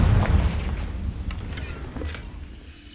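A Confringo blasting spell goes off in Hogwarts Legacy, a deep booming burst at the start that rolls on as a low rumble, with faint crackling debris through the tail.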